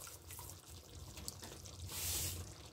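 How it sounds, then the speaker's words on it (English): Water pours into a cooking pot of biryani rice with cinnamon, cloves and bay leaves, a continuous splashing stream that swells toward the end. "We are going to put in water like that, and then we are going to add salt."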